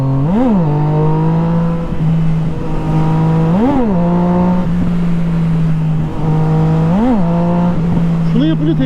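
A Honda 1000RR sport motorcycle engine holds a steady loud idle-like drone and rises in three short throttle blips, each revving up and dropping back, close to the microphone with continuous wind and road noise.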